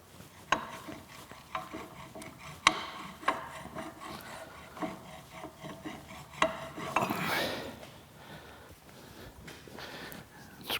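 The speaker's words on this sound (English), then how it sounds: "Scrape off the high spots again." A hand scraper works the surface of a Monarch lathe compound slide during restoration, giving close, scratchy metal strokes in an irregular series of sharp rasps with sliding friction between them, moderately quiet with no talking.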